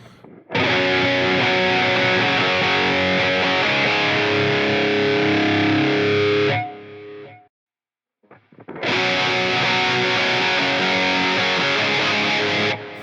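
Distorted electric guitar recorded with a Shure SM57 dynamic mic riffs loud and upfront, stops for a moment of near silence, then resumes with the same crunchy, direct tone.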